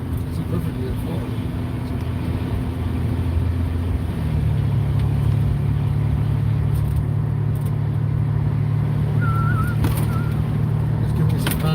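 Car driving down a snowy street, a steady low engine and road hum heard from inside the cabin while a person talks.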